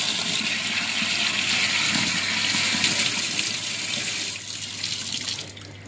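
Tap water running in a home kitchen, a steady close hiss and splash that continues evenly before easing slightly near the end, with no talk.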